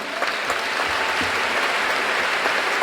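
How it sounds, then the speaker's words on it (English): An audience applauds at the Accra World Book Capital launch in the Accra International Conference Centre, dense sustained clapping filling the hall at moderate loudness from start to finish. "Let's clap for her."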